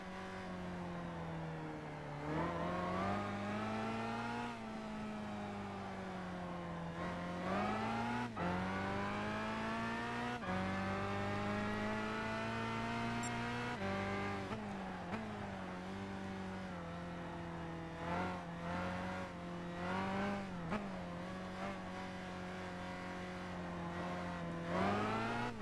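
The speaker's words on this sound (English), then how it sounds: "I'm gonna stop jamming the throttle until I get pointed straight." Supercar engine in Gran Turismo 5 revving continuously through a race, pitch rising and falling with repeated throttle blips and gear changes, loud and steady with brief tire squeal, no talking.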